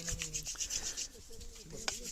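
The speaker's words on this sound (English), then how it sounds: "This is a friction fire method where they rub a spindle in their palm into the half-board." Hand drill friction fire, a wooden spindle spun between the palms and rubbed into a wooden half-board in the jungle; steady dry scraping and rubbing, close and fairly quiet, with faint voices in the background.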